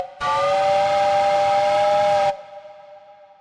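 A steam train whistle blows one loud, sustained chord-like blast for about two seconds, then cuts off, leaving a fainter lingering tone for a ghost train effect.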